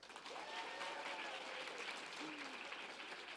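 Audience applauding for a speaker at a student mental health event, a sustained wash of clapping heard at a distance and fairly faint, with a voice briefly rising over it.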